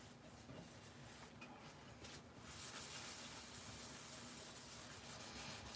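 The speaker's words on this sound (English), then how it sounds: "And rubbing on the foil" Foil being rubbed onto a glued sheet during a test of foiling sheets, a soft continuous scratchy friction that grows slightly louder halfway through, faint and close.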